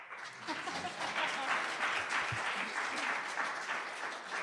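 A synagogue congregation at a Yom Kippur morning service applauds the string players and musicians, a full, steady round of clapping from many hands with a few faint murmurs underneath.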